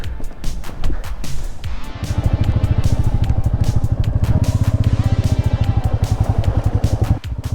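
A motorcycle engine runs close by in the Ladakh desert with a steady, rapid thumping idle-like rhythm that starts after a couple of seconds of scattered noise and continues to the end.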